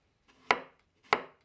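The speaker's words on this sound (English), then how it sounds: "we peel and slice half a cucumber and prepare a good amount of basil" Knife chopping on a cutting board through cucumber and basil leaves, two distinct, sharp, close chops about half a second apart in quiet surroundings.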